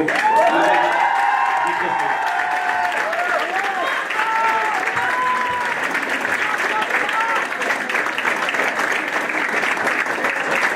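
Sustained applause from a large crowd at an awards ceremony fills the space, with a few voices and whoops rising over the steady clapping throughout.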